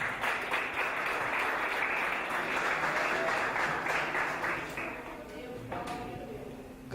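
A church congregation breaks into loud, sustained applause welcoming a preacher, the clapping filling the room before tapering off as a voice starts talking.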